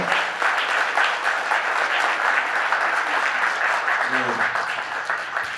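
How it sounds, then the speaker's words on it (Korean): Sustained audience applause at a political party founding convention, a dense steady roar of many hands clapping with a voice briefly heard underneath. "모든 분들께 큰 박수로 감사의 뜻을 전하는 것 같습니다"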